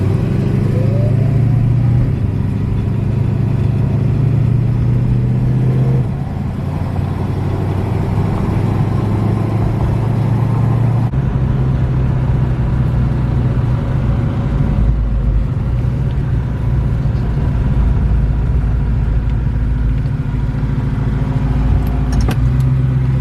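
A 1968 Ford Mustang with a 302 V8 idles steadily and loudly up close, a continuous low rumble with no speech.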